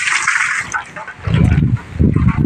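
Water drawn from a well is flung out of a container onto the ground, landing as two close, heavy splashes with a short pause between them.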